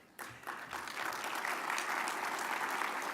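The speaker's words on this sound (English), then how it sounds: "please help me give a warm round of applause to our titanium sponsor and underwriter, Moffitt-Nichol" An audience at a transportation summit's opening session breaks into applause: a steady, dense wash of clapping that starts abruptly and carries on evenly from a moderate distance in a large hall.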